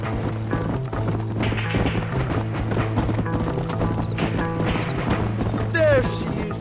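A horse in Red Dead Redemption clip-clops in a steady rhythm of hoofbeats close by, with game sounds and a brief neigh-like cry near the end.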